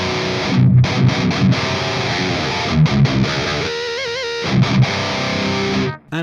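Heavily distorted electric guitar played through an STL Ignite Libra impulse response mixer blending Engl, Mesa Boogie and Marshall cabinet tones, loud chugging riffs with short gaps and a sustained bending note midway, no talking.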